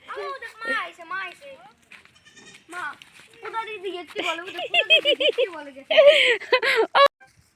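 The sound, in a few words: goat bleating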